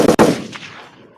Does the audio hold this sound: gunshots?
yes